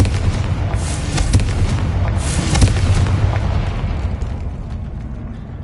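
In Hogwarts Legacy, a Confringo fire spell lands as a loud, rumbling blast that rolls on for several seconds and slowly fades, with no voices over it.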